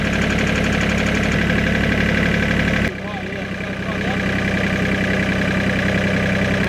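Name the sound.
tractor engine idling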